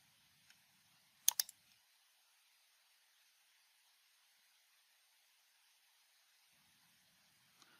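Two or three quick mouse clicks close together while selecting cells in RFEM 6 structural engineering software, fairly clear against a quiet background, followed by near silence and one faint click at the very end.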